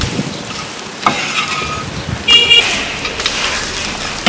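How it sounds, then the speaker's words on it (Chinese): A non-stick pan steadily sizzles as food is slowly pan-fried in a home kitchen, with a few light clinks of a utensil over the close, continuous frying hiss. "那这也是不粘锅的，一定要慢慢的煎。"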